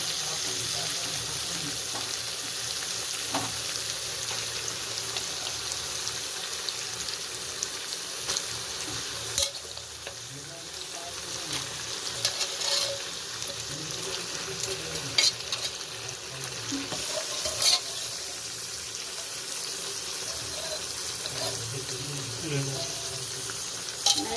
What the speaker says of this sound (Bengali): এবার আমি দিয়ে দিচ্ছি এগুলোকে। এটা কষানো হবে। এটা খাসির মাথা আর ফুলকো আছে।